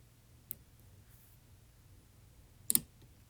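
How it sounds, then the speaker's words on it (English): An ASSA Twin Combi lock being picked gives two crisp, isolated clicks, a small one early and a louder doubled one near the end, against near silence. "Wow, big clicks out of 6"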